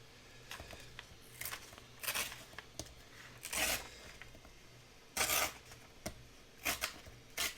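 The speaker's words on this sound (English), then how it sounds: "let's use our ruler to just tear this, hopefully" Paper is torn straight along a ruler edge while folding an envelope Christmas folio, heard as several short, scratchy ripping bursts separated by brief pauses, close and fairly quiet.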